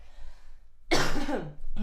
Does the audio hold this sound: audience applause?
no